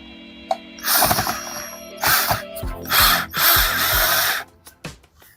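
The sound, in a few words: power drill driving drywall screws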